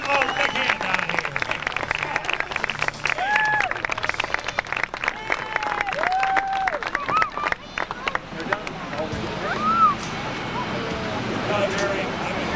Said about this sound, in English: Let's give them a big hand down here.